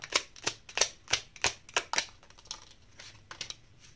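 Tarot cards are shuffled and drawn from a deck, producing a quick run of crisp, close papery snaps and flicks, about a dozen in rhythmic succession that grow softer toward the end, with no talking.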